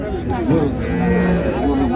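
A cow lows loudly and close by at a busy Raniganj livestock market in Dinajpur where dairy cows and calves are sold, with crowd chatter underneath.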